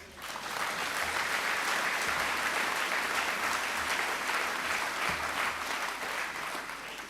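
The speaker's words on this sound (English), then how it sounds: "Give yourselves a round of applause." Audience applause at a UKIP party conference in Bournemouth, a dense, sustained wash of clapping from a large crowd that holds steady for several seconds before easing slightly.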